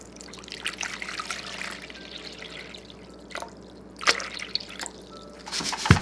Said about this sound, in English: First, we are going to measure out our water.